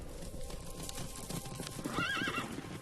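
Circus horses clip-clop on the ground amid a busy rustle, and partway through one horse lets out a clear, wavering whinny close by.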